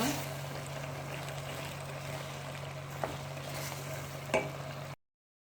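Pepper paste and tomato paste get stirred in a pan, giving a low, steady sizzle and a soft scraping hiss, with two brief clinks of the utensil near the end before it stops.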